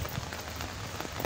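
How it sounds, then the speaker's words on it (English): Rain falls steadily on a deserted road, a close, continuous soft hiss with faint patter throughout a short moment. "it's raining"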